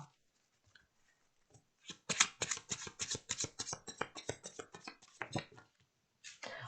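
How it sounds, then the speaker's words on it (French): Lenormand oracle cards being shuffled and drawn from a deck, a quick run of soft papery riffles and flicks after a few quiet taps, close and intimate with no talking. "je vais tirer une autre carte avec le Lady Lenormand oracle de mon ami Michel-Ange Tarot"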